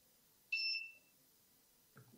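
A beacon locator mounted above a door gives one short, clear electronic beep in a quiet indoor space, followed by a faint brief rustle.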